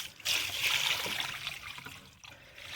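Water trickles and splashes steadily while plants and a tree are watered outdoors, a close, continuous hissing pour that eases briefly near the end before resuming.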